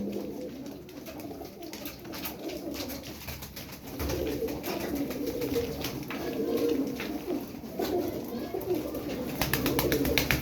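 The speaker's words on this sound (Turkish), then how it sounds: "12 tane kuş var" Pigeons kept as game birds coo repeatedly in soft, low rolling calls, several birds close by, with a steady murmur of background noise and a few faint voices.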